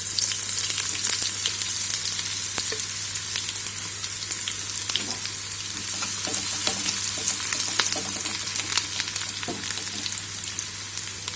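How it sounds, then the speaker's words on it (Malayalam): Chopped shallots frying in hot coconut oil in a pan for Kerala crab curry, a loud continuous crackling sizzle with frequent popping close up throughout. "ചൂടായ ചട്ടിയിലോട്ട് ഞാൻ വെളിച്ചെണ്ണ ഒഴിക്കുകയാണ്. എണ്ണ ചൂടായിട്ടുണ്ട്. ഇതിലേക്ക് ചെറിയ ഉള്ളി അരിഞ്ഞു വെച്ചത് ചേർക്കാം"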